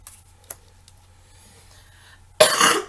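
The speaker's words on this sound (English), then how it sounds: "Excuse my cough, you guys." A single harsh cough bursts out loud and close near the end, after a quiet stretch with a couple of faint clicks and ticks.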